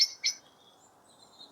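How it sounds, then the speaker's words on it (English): A bird chirps twice on a winter morning outdoors, two short bright high calls close together at the start, then faint thin calls trailing off in a quiet background. "the robin always starts singing in the dark"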